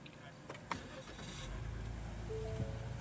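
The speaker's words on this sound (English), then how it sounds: "So let's try to start the car." Ford Explorer engine cranking and starting after PCM programming, a faint click and short crank followed by a rising steady idle rumble, close and fairly quiet.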